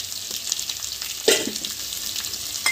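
Finely chopped onions fry in oil in a pan for a mushroom masala, giving a steady close sizzle with one louder stir-scrape burst near the middle and another toward the end.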